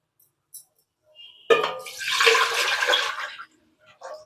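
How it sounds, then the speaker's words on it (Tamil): Water gushes and splashes into an idli cooker for about two seconds, a steady pouring rush, followed by a brief clink at the end. "இப்போ இட்லி குக்கரில் தண்ணி ஊற்றி அடுப்பில் வச்சுக்கலாம்."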